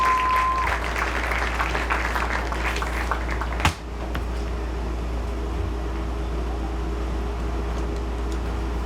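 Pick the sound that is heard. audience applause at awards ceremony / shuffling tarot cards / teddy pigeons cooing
audience applause at awards ceremony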